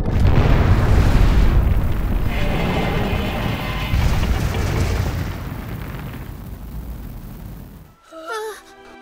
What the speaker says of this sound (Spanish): ¡Pero qué explosión!